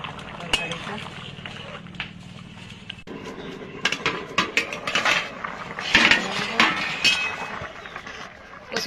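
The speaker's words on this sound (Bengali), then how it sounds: "আমি ঢাকনা তুলে একটু নাড়িয়ে দেব" A pot lid is lifted and taro and fish curry is stirred, giving clinks of metal and scraping utensil knocks against the pot, up close amid steady kitchen noise, with talk present.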